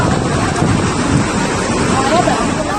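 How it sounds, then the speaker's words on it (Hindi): Swollen Parvati river in flood, rushing water forming a steady, loud, broadband roar that fills the whole clip without pause, with wind-like noise mixed in. "पार्वती नदी उफान पर है"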